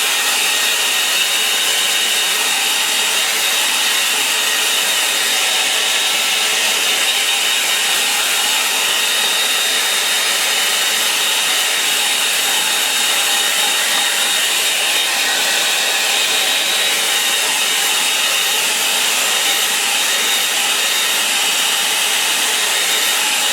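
A hair dryer blows on a landscape painting of Beddington Farm in one loud, steady whoosh that runs unbroken from start to finish, with no voices.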